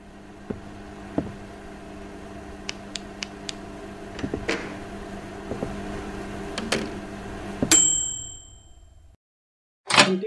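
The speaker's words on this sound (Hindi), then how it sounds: "घंटी बज गई भाई, बन गया।" A bright cooking-done bell in BGMI rings out near the end as a single sharp ding with a ringing tail, after scattered clanks and mechanical clicks and before a brief silence and a final clatter.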